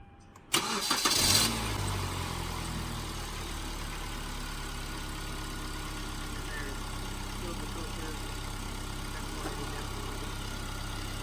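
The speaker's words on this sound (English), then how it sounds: "So it's going to start kind of funny for the first time while it fills the filter and the engine full of the new oil." A 2009 Hyundai Sonata engine cranks briefly and catches just after an oil change, then settles into a steady, even idle that runs on close by without talk.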